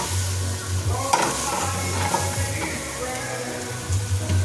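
Sliced hot dogs stir-fried in a pan, with close, continuous sizzling and frying broken by repeated scraping and stirring strokes, and no talking.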